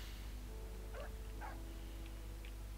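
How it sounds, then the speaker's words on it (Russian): A dog in Survival Postapocalypse Now barks at the player, three or four short yappy barks spaced about half a second apart, faint and thin against a loud, steady low rumble. "Отвали, собака."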